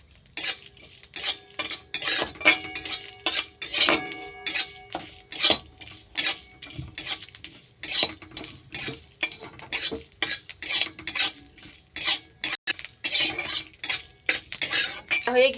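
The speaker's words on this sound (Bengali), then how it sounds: "গোটা জিরে দিয়ে আরেকটু ভেজে নেব।" Whole cumin seeds and broken dried red chillies tossed in hot oil in a pan for a watermelon-rind pickle, with repeated close scraping and clinking of a metal spoon against the pan over a light sizzle.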